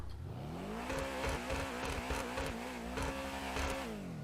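Lamborghini Urus engine in GTA Online revving hard, a loud rising growl with rapid gear-shift stutters and repeated throttle blips, the pitch climbing, dipping and climbing again close up.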